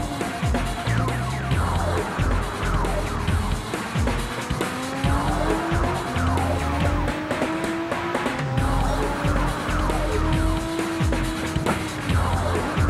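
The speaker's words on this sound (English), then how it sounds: "we are on board with Amy Shaughnessy in her relatively new Nissan Nismo GTR" A Nissan Nismo GT-R races on track, heard from on board: a loud engine rising and falling through gear changes, with repeated tire squeal and skidding over continuous road roar.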